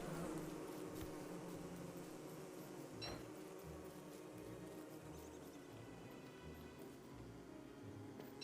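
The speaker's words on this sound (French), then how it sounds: "Petite abeille." A faint, continuous insect-like drone from a bee in Don't Starve Together hums throughout, with a few soft taps and a brief chime partway through; no one speaks.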